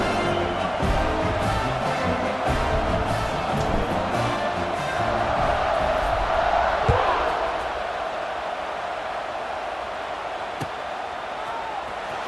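Stadium crowd roar in a football video game during the NDLBlitz versus Washington matchup, a steady loud wash of cheering through the whole stretch with a swell near the middle, while commentary voices talk over it.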